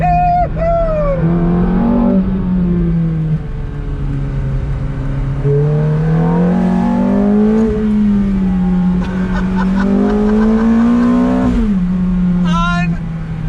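A Ferrari F430 with a naturally aspirated V8 revs on throttle, a loud sustained engine note that climbs and falls in pitch, with people talking over it.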